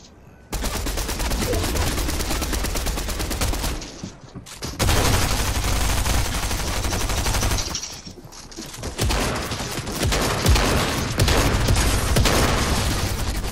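Submachine gun fire in Fortnite comes as loud, sustained automatic bursts, three long rapid strings of shots separated by short pauses, close and dominant.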